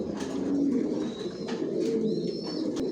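Racer pigeons coo in a continuous low murmur, several birds close together, with faint chirps and rustles over the steady cooing.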